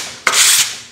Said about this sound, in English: I'm sanding in the same direction as the grain